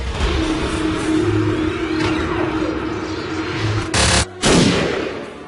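A cartoon proton cannon fires: rumbling, whooshing energy builds under a droning hum, then two loud, sharp blasts burst out close together near the end.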